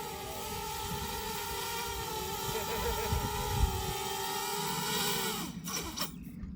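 A military drone's rotors whine and hum steadily as it comes in to land outdoors, with a faint background murmur and the motor note dropping near the end.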